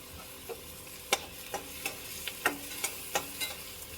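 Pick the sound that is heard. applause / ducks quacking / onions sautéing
onions sautéing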